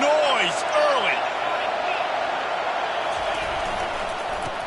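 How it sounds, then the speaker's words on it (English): A college football stadium crowd produces a constant loud roar, with shrill whistle-like cries and cheers rising early on over the broad din. "This crowd bringing the energy and noise early."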